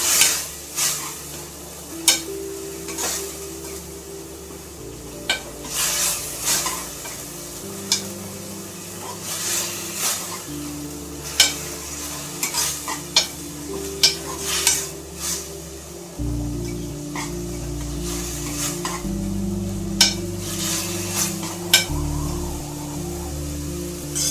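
Tomato bath rice cooking in a pot while being stirred, with repeated scraping strokes of a spoon over a steady sizzle and bubbling, close and fairly loud, and a tonal background underneath throughout.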